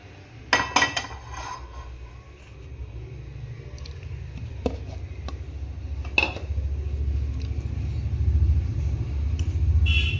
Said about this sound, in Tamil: சாதம் கிளற போகிறேன்.